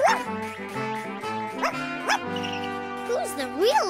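A cartoon dog barking and yipping in a children's animated episode, several short bright yaps and whimpers in quick succession over light background music.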